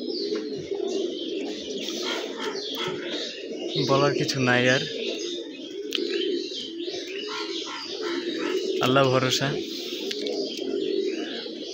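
Pigeons coo steadily in low, rolling tones close by, with two louder bursts of calls standing out, while someone speaks over them.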